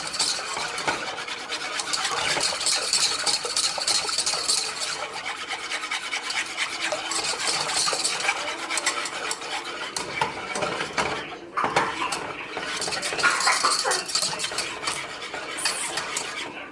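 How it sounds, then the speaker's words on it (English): A whisk scrapes and stirs rapidly around a bowl of homemade barbecue sauce, a continuous close rasping and clinking that pauses once briefly and then resumes. "Which I'm going to get a whisk so I can whisk it."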